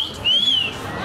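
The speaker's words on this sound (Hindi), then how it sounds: "यहाँ किसी को मौका मिल गया टीवी एक्ट्रेस क्रिस्टल के लिए सीटी बजाने का" A person whistles at a TV actress during an awards event, a single rising-and-falling tone lasting under half a second, fairly clear over a background murmur.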